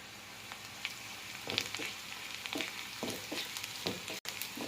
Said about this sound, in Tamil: வெங்காயம் வதங்கும்போதே நம்ம கொஞ்சமாக உப்பு ஆட் பண்ணிக்கலாம்.